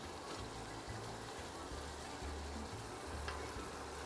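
Curry cow heel frying and being stirred in a pot, a steady quiet sizzle with soft scraping and shifting as the pieces are moved around, heard close with no talking.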